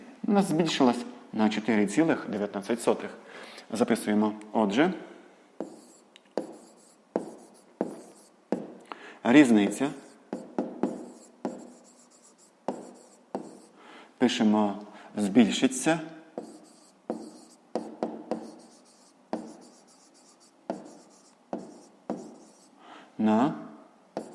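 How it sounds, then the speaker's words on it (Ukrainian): Chalk or pen scratching out a fifth-grade maths answer by hand, a long run of short, rapid writing strokes in bursts with brief pauses, close and fairly loud, with a voice talking over parts of it. "зараз записуємо відповідь. Пишемо відповідь."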